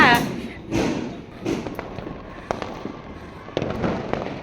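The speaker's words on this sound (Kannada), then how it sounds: "ಯಾವ ನ್ಯೂ ಇಯರಲ್ಲೂ ಕೂಡ ಈ ರೇಂಜ್ ಪಟಾಕಿ ಹೊಡಿಯಲ್ಲ ಎಲ್ಲಿ ನೋಡಿದ್ರು ಪಟಾಕಿಗಳು" Several sharp firecracker bangs burst at irregular intervals during a street celebration of an RCB cricket win, some near and some farther off, with crackling between them and voices chattering in the background.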